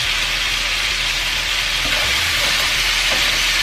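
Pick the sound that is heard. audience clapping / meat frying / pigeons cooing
meat frying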